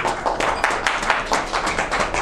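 Clapping from a small group at a Toronto press conference of a Canadian federation of Hong Kong associations, a close, moderately loud patter of individual hand claps with a loose, uneven rhythm.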